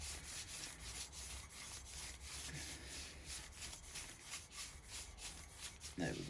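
An engine valve is lapped into a Ford Fiesta MK6 cylinder head, making a faint, steady, rhythmic gritty rubbing from rapid back-and-forth twisting, close by and continuous, ending in a brief louder scrape.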